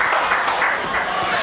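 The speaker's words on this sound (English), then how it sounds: "And applause from the coach's booth right next to us" Applause from a coach's booth at a high school football game between the Crestwood Comets and Berwick Bulldogs, heard as a steady, dense wash of clapping with crowd noise that continues without a break.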